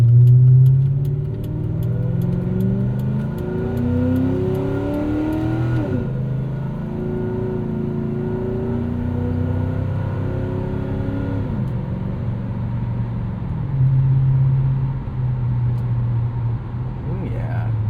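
The V8 of a 2003 Mercury Marauder sedan with a stainless exhaust revs and accelerates nearby, deep and throaty, pitch climbing then settling into a rumbling idle, with voices talking over it.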